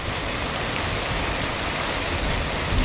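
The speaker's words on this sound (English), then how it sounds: "It's raining hard." Heavy rain pours down steadily and loudly as a dense, unbroken hiss, with no voices over it.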